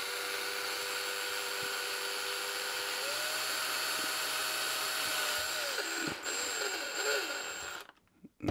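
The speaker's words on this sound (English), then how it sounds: "we could just drill them out afterwards" A power drill bores holes in an enclosure, a steady close high whine that shifts pitch partway through under load, then stops abruptly near the end, with no speech.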